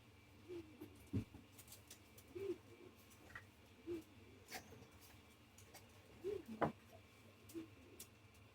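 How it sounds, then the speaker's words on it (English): Pet birds move about a room and knock small objects over: scattered light taps, scuffs and soft coos spread over several seconds, faint and intermittent against a quiet indoor background. "that's just my birds knocking everything over"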